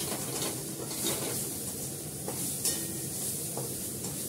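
Masala fries in a pan with a continuous close sizzle, while a utensil stirs and scrapes through it in soft, irregular strokes.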